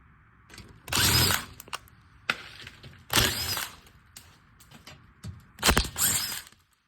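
Power tool spinning out 7mm screws from the underbody shield of a Ford Edge, three loud close whirring bursts, each about a second long, separated by quiet gaps and small clicks.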